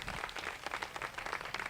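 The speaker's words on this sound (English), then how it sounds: "Another round of applause for Lucy" A small audience claps for a dancer at a Hawaiian music gathering, a short burst of scattered, moderately faint hand claps.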